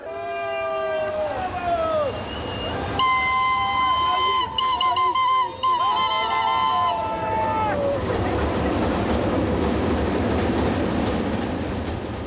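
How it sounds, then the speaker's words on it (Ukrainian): A passing train sounds its horn in salute to a crowd at a commemoration rally in Konotop, a long sustained multi-tone blast with shifting pitch, then rumbling wheels and crowd noise continuing after the horn stops. "мітингуючим салютують навіть проїжджаючі потяги"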